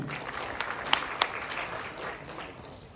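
Enthusiastic audience applause at a live Marathi comedy stage show in Satara, a steady wash of clapping hands with a couple of sharper claps standing out, no talk over it.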